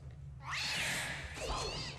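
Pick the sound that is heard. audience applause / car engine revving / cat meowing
cat meowing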